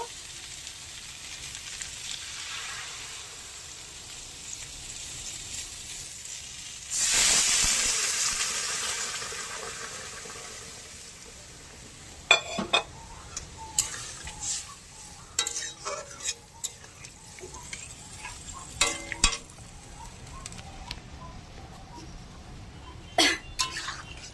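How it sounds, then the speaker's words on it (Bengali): Water hits hot fried spices for a pabda fish curry, a sudden sizzling hiss that swells and slowly fades, followed by scattered clinks and scrapes of stirring in the pan. "মশলা দিয়ে ভালোভাবে কষিয়ে নিয়েছি দুটোই তো এখন জল দিয়ে দেবো"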